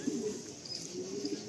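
A racer pigeon coos quietly nearby in soft, low repeated murmurs over a faint background hiss, with a brief high chirp in the middle.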